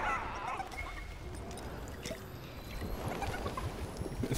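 A chicken pulled from a mystery box in Fortnite, clucking and gobbling in short repeated bursts at moderate distance over quiet game ambience.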